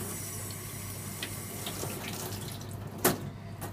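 Tap water runs steadily into a kitchen sink while shungiku (chrysanthemum greens) are rinsed, a faint, continuous splashing hiss with one brief louder splash near the end.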